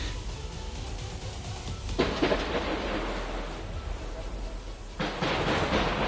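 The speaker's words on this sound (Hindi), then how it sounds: "यहाँ से ये अपने भारत की तरफ से जवाबी फायर किया जा रहा है" Distant counter gunfire from the Indian side at night during a drone attack near Ferozepur: a continuous rumbling roar with broadband bursts that flare up around two seconds in and again near the end, faint voices beneath.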